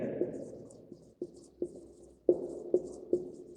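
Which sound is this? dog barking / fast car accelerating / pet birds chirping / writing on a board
writing on a board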